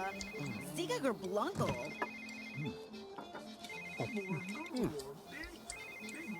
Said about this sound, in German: dieses scheiß Telefon. Es bimmelt dauernd.